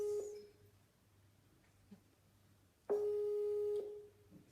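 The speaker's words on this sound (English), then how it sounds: "it's ringing on Skype, it's not picking too" A Skype call rings out unanswered on a computer, two steady electronic tones, a short one at the start and a longer one about a second long later, over quiet room noise.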